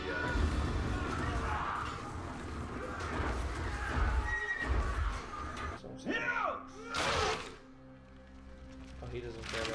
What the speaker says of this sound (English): actually horses charging at him